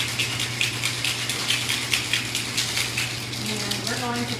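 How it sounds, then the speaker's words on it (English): A raspberry chocolate martini streams from a cocktail shaker into a martini glass with a steady, close, pulsing splash, and a voice starts speaking near the end. "we're going to pour it into this beautiful martini glass."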